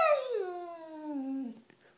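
A pet dog howls in one long, close, loud note that starts high and slides steadily downward, fading out after about a second and a half with a soft whimper at the end.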